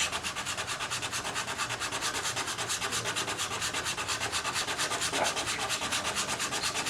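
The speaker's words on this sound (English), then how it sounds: "sanding is a technique by itself" Wood is sanded by hand in quick, even back-and-forth strokes, a raspy rubbing that pulses rhythmically and steadily at close range, with no voices.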